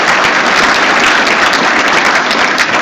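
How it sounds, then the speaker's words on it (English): Crowd applause at a Conservative nomination speech in Dufferin-Caledon: loud, dense clapping from many people, continuous and unbroken throughout with no voices over it. "I want everyone to make a round of applause for themselves"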